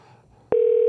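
Single loud keypad tone on an automated phone menu, a steady pure beep starting midway and holding to the end after a brief quiet line hiss.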